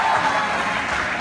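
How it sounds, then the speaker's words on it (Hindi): Audience applause at a university promotional event, a dense, steady clapping from a large crowd that fills the short moment without any talk. "एक बार जोर से तालियां।"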